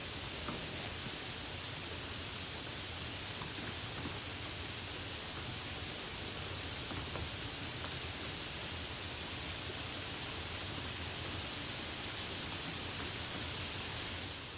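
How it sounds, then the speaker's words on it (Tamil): Steady, dense hiss of rain falling continuously, a uniform broadband wash with no breaks and no talking, fairly loud throughout. "இதுதான் மழை."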